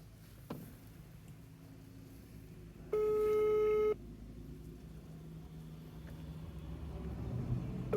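A telephone tone sounds once for about a second while a taxi driver calls a passenger, a single steady electronic beep over a quiet background hum.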